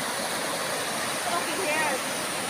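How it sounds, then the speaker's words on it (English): Broad steady rush of a waterfall on a river in the Philippines, a continuous roar of falling water close by, with faint voices mixed in underneath. "We're here at the waterfall."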